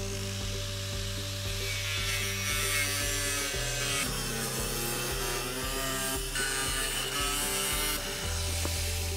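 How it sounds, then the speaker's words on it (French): An angle grinder or jigsaw whines steadily while cutting through a plastic roofing sheet, a continuous harsh grinding buzz with slight shifts in pitch as the blade moves. "Veillez à bien maintenir la plaque lors de l'opération de découpe avec la meuleuse d'angle ou la scie"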